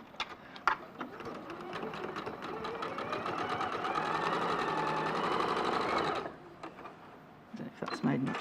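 A sewing machine stitches fabric for about six seconds, a steady close whirring rattle with rapid needle ticks, starting and stopping with a few clicks, while a voice talks quietly under it.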